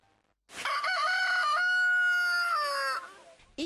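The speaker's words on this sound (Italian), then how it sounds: "Il canto del gallo che avrebbe potuto avvisare i padroni di casa" A rooster gives one long, loud crow lasting about two and a half seconds, close and clear after a quiet start, trailing off into silence.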